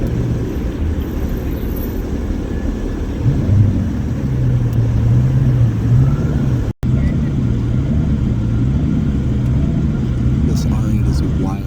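Twin-turbo Audi R8 engine pulling hard on a club road tour, a loud continuous rumbling drone whose pitch rises and wavers as the car accelerates, heard from close by for most of the stretch.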